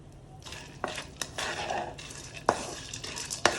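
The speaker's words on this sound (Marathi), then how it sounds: "आता आपण आपले सर्व ड्रायफ्रूट्स तुपामध्ये तळून घेऊ." A spoon stirs cashews and dried fruits frying in ghee in a metal pan, giving close scraping sounds and several sharp clinks against the pan's side, with a soft sizzle underneath.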